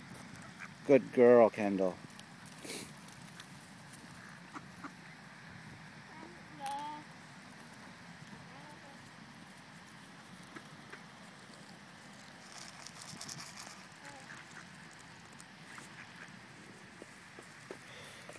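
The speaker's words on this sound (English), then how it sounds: "You got duckies everywhere. Here, feed the duckies." Hungry ducks fed by a young girl named Kendall, one loud burst of quacking near the start and fainter calls later, with people talking softly throughout.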